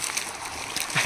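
A child's toy vehicle splashes into water with a quick, close slosh and splatter, and a voice is faintly present.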